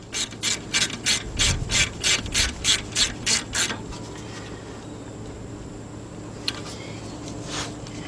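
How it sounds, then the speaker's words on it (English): Bolt on a brake line being tightened on a 1996 Toyota RAV4 while fitting front calipers and brake hoses, heard as a quick run of about a dozen close ratcheting clicks that stop, then a quiet workshop with a faint tap. "Let's get it bolted in place with our 12-millimeter bolt. Okay, let's go ahead and tighten that up now."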